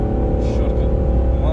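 A BMW 640d xDrive diesel engine revs in a brief, loud, close burst with a strong low rumble, while a person speaks over it.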